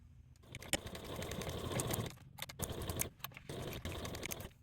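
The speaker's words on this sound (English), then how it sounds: "Now take your piece to your machine and you want to top stitch at a 1/8 seam allowance away from that bottom edge of your trim" A sewing machine top stitches trim on a sling bag pocket at a 1/8 inch allowance, running in a few close, steady bursts broken by short stops and light clicks, no voices.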